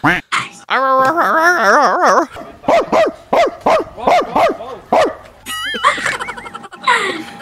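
A pet dog in a hoodie barks and yips in a steady, rhythmic run of close, loud calls, with a few whimpering tones near the end and voices talking around it.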